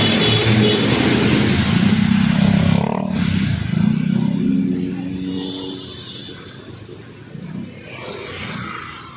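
A motorcycle revs hard on a street in Santa Mesa, Manila. The engine roars loud and close at first, then fades and steadies as it pulls away through traffic noise.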